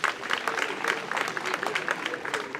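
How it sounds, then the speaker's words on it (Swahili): Applause from an audience at a student quiz event during a UVCCM youth tour, a steady patter of many hands clapping throughout, moderately loud with murmuring voices mixed in. "Piga makofi."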